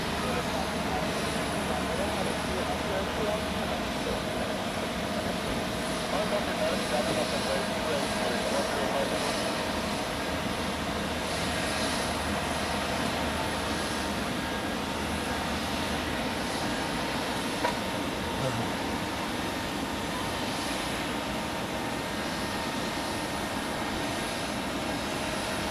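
An aircraft lands on runway 14 at Zurich Airport, a steady distant engine roar that holds throughout with no clear peaks, while voices talk faintly in the background.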